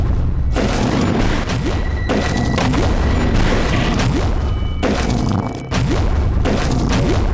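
Weapon blasts from the video game Forgive Me Father boom in rapid succession, heavy thumps and crashes layered over a dense, loud stream of gunfire with brief gaps between bursts.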